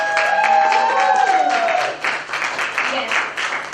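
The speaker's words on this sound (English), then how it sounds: "can we hear a big round of applause for all of you present here?" Audience applause at a talk on coping with worry, a steady wash of clapping with tonal voices and cheering mixed in throughout, fairly loud and dipping briefly midway.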